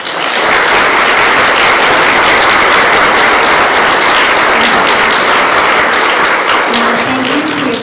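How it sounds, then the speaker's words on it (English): Loud, sustained audience applause for four Annapolis mayoral candidates at a League of Women Voters forum, dense even clapping filling the room throughout, with a brief voice near the end. "First, I'd like to ask for a round of applause for our 4 candidates."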